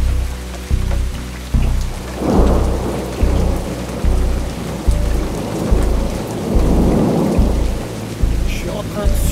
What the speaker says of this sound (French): Un gros orage arrive, ça tonne,